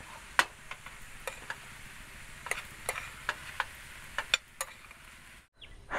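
A spatula scrapes and taps against a pan while fried rice seasoned with salt, pepper and soy sauce is stirred during car camping, with a soft sizzle underneath and scattered sharp clicks, fairly quiet and without voices.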